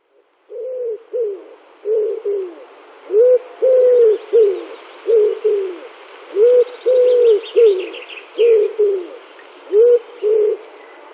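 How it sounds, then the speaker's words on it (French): Collared doves cooing in a steady series of soft, rhythmic three-part coos, close and clear, with faint chirps from other birds in the background. "La tourterelle."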